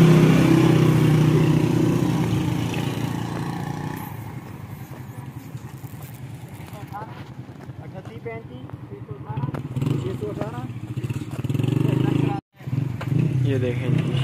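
A motorbike engine idles and revs at close range while being parked on a hillside road in Shimla Pahari, Abbottabad. A steady mid-pitched drone sits beneath voices, drops back partway through, then cuts out briefly near the end.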